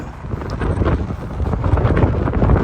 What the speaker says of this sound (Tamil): காற்று எப்படி அடிக்குது பாருங்கள் அந்த பனி பொழிஞ்சு அப்படியெல்லாம் பறக்குது